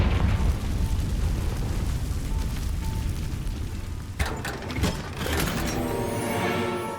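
Bombarda and Confringo spell explosions in Hogwarts Legacy, a heavy booming roar with rumbling debris, then sharper bursts and pops midway, loud and close, with no talking.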